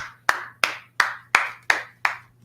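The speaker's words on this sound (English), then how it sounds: "Clap it up for the class." Six sharp hand claps in a steady, evenly spaced rhythm, each one ringing briefly in the room, with a low hum underneath.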